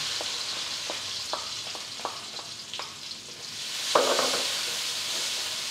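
Garlic sautés in a pan until light golden brown, giving a steady bright sizzle with intermittent clicks and scrapes of a spatula as it is stirred, close and moderately loud, with no speech.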